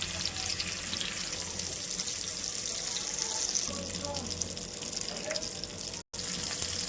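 Fish pieces shallow frying in oil give a steady, soft hiss and sizzle throughout, with a brief dropout near the end.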